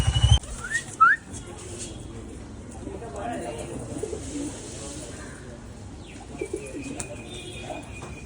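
Pigeons coo and chirp outdoors in a busy neighbourhood setting, low soft calls and a few brief sharp chirps sitting under steady background noise and bustle.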